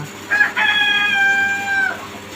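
A breeding rooster crows once nearby in a chicken coop, a long strained call rising then holding before trailing off, over faint background clucking.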